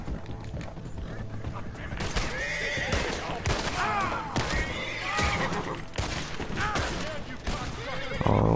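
Horse neighing repeatedly in the video game Red Dead Redemption 2, loud wavering whinnies in several bursts over clopping hooves and scattered gunfire, with a voice talking in between.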